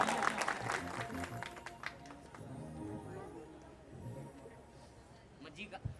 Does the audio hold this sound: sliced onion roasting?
no